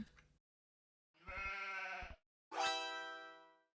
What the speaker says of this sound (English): So, Dogao offering to send some sheep to VH